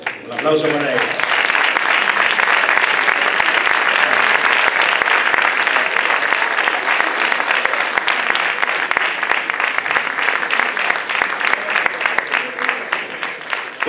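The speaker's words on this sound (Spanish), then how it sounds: "un aplauso para él" A concert hall audience at a Santa Cecilia band concert in Marmolejo breaks into loud, sustained applause that keeps an even, dense clatter of many hands for over ten seconds, following a brief voice at the start.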